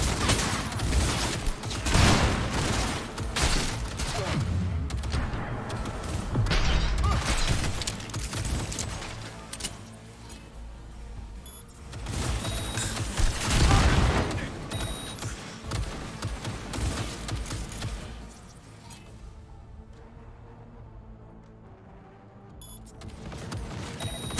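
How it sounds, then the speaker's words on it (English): Gunfire crackles through a Cyberpunk 2077 firefight as dense volleys of sharp shots. They rise and fall in waves over a steady din of game noise, then thin out toward the end. "Keep firing!"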